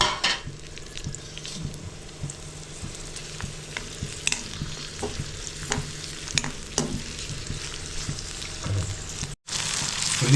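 Chopped onions frying in hot oil for a liver fry, giving a continuous close crackle and sizzle with frequent clinks and scrapes from stirring, and a brief cut near the end, with no voices.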